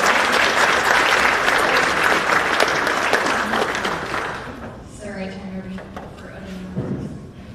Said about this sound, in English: All right, big round of applause again.